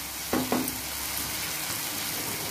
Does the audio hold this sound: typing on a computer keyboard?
no